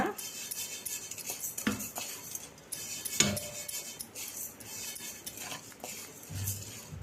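Rice puffs being stirred as they roast in a hot pan, a close metallic scraping and clattering of utensil against pan with occasional louder clinks, continuous throughout.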